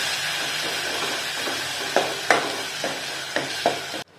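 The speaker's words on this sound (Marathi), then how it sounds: "हे जे वाटण करून घेतलं हे टाकायचं, चांगलं परतवून घ्यायचं" Ground spice paste with asafoetida sizzles steadily in hot oil, with a few sharp spatula scrapes and taps against the pan as it is sautéed, close and continuous until it stops abruptly.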